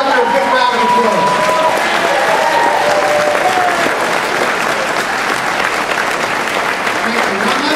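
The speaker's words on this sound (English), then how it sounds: "let's give the governor a big round of applause" Sustained applause from a large audience at a political announcement event in Hempstead honoring the governor, steady and loud throughout with crowd noise layered in.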